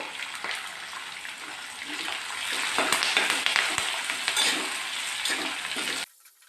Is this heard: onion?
yes